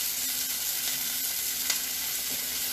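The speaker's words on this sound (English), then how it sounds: "It's gonna sizzle now, so I'm trying not to get too much liquid in here" Marinated chicken sizzles in a hot pan while cooking chicken Marsala, a steady crackling hiss with a few sharper pops, close and moderately loud, with no talking.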